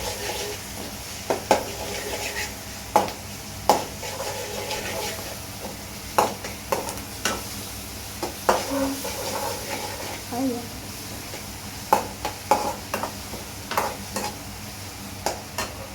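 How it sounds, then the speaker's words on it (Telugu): Garlic paste frying in a pan for Schezwan fried rice, a constant sizzle broken by repeated spoon strokes and scrapes against the pan, with a person speaking intermittently over it. "గార్లిక్ పేస్ట్ అయితే వేసుకోవాలి ఒక స్పూన్ దాని తర్వాత మళ్ళీ కలపాలి"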